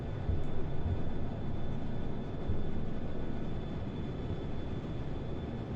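A MiG-21 jet climbs out after takeoff in a combat flight simulator game, heard as a steady broadband engine roar that stays constant and fills the background, with no voices.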